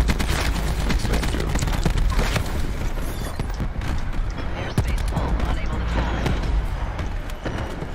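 Rapid gunfire crackles through a Black Ops video game match as players shoot back, dense bursts of shots and clattering mechanisms running steadily beneath voices talking over the action.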